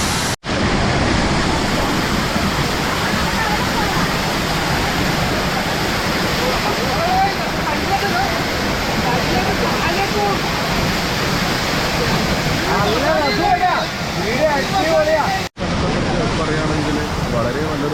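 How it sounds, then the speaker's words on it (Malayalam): Karakkund waterfall in Kannur gives a loud, continuous roar of falling water close by, a broad steady rush with faint voices under it. "വളരെ നല്ലൊരു വെള്ളച്ചാട്ടമാണ്"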